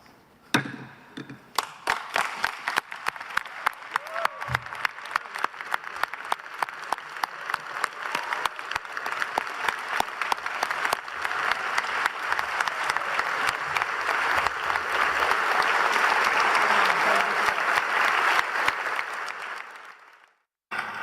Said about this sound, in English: Well, that clap might be misleading.